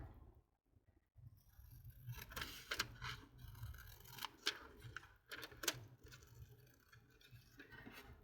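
Scissors cut paper for a glue book, giving soft, close snips and scraping strokes in an irregular rhythm. The sound is quiet, with no talking.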